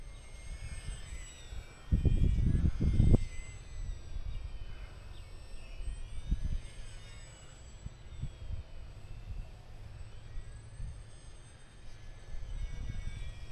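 Small E-flite UMX Turbo Timber Evolution RC plane flying on a windy day, a steady faint motor whine running throughout with heavy wind buffeting rumbling low, including a loud gust burst near the start.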